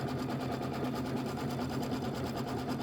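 A sewing machine runs a quilting stitch on a Christmas wall hanging, a fast, steady mechanical whir with rapid needle pulses throughout, close and uninterrupted, no voices.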